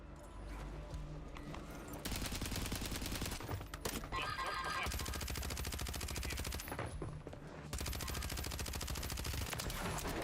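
Dense, sustained automatic gunfire in Warzone on Rebirth Island, loud and close, with near-continuous rapid shots that pause briefly and then resume.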